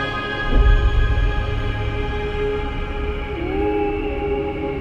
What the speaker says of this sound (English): They are literally the sounds of space ringing.